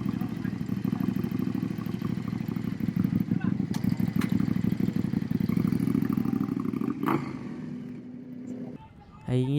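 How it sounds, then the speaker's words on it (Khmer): A KTM Super Duke R motorcycle engine idles with a rapid, loud, close-up throb and firm pulsing beats before the rumble drops and briefly picks up again at the end. "ស្ដាប់សំឡេង KTM Super Duke R តិចទៅ"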